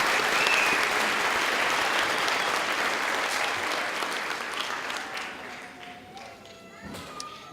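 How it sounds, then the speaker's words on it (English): A crowd at a graduate hooding ceremony applauds the education psychology graduates, with dense, steady clapping that fills the room and gradually thins and fades toward the end. "Can we give one more round of applause for the graduates in the Department of Educational Psychology?"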